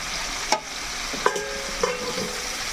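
Chicken pieces frying in a pan for a homemade curry: a steady soft sizzle with a few sharp clinks of a utensil against the pan, close up, and no talking.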